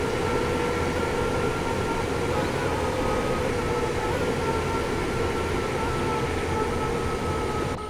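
A train in the Train Sim World 5 video game on the West Coast Main Line South route runs with a steady low rumble and hum that slowly eases as it slows, continuous and close, with no talk.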